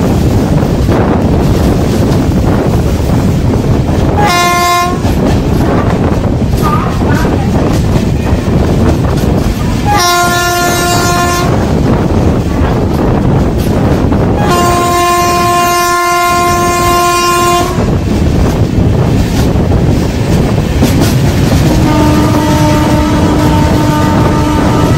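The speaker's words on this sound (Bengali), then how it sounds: "এই মুহূর্তে আমাদের ট্রেন এখন কাশিমবাজার রেল স্টেশন স্কিপ করছে" The Sairang Kolkata Express rumbles loudly through Kasimbazar station without stopping, wheels roaring and wind buffeting the microphone, while the horn sounds in several long blasts, including a final lower, sustained one.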